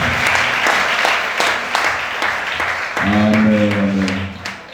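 Church congregation applauding during a worship service, dense sustained clapping throughout, with a voice rising over the applause near the end.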